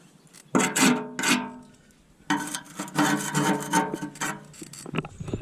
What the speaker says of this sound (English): Just chipping away, get down to that good metal.